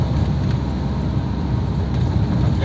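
A vehicle engine climbing an uphill mountain road in Santa Fe, Nueva Vizcaya, gives a continuous low rumble that hums steadily throughout, fairly loud and close, with no distinct changes in pitch or rhythm.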